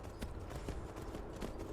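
Horse hooves clip-clop at a steady trot while riding in the video game Skyrim, a rhythmic series of close, moderately loud hoofbeats with no talk over them.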